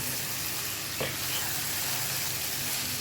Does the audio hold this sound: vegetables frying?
yes